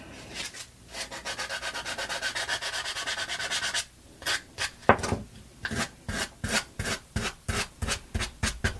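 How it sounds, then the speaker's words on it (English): Steady back-and-forth rasping of a sanding block on wood, a continuous scrub at first, then separate rhythmic strokes, close and fairly loud. "I like the sanding block. It's real easy."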